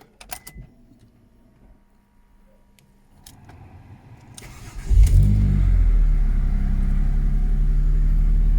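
Quiet clicks and rustling give way to a Ford Mondeo ST220 engine with fault code P0443 and 100,000 miles cranking and catching with a roar, then a deep, steady idle close by.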